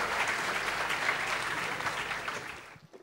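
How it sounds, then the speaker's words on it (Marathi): An audience applauding loudly at a community program, a dense, continuous wash of clapping that holds steady and then tapers off into quiet at the end. "स्वतःसाठी जोरदार टाळ्या वाजवा एकदा"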